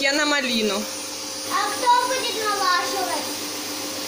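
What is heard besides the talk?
children vacuuming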